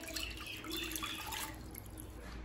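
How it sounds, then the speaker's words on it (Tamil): A cup of water poured into a pan for sugar syrup in a home kitchen, a soft steady trickle and splash heard at low level throughout with no talking. "இப்போ ஒரு கப் தண்ணி சேர்த்துக்கலாங்க."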